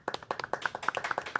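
Applause for guests on a podcast about restaurant management: a short burst of close, brisk hand claps from a small group, quick and uneven in rhythm.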